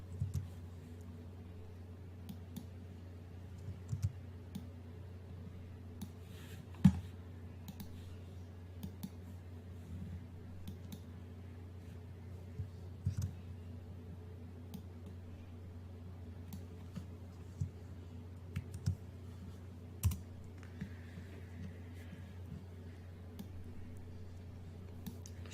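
Sparse, sharp mouse clicks from photo editing work, single and irregularly spaced, over a low steady electrical hum in a quiet room.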